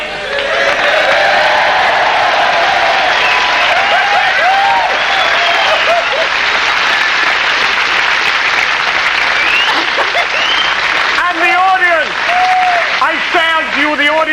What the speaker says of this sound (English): The audience shall applaud spontaneously, for she looks so stupid.